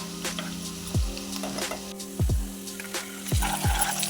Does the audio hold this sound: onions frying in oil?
yes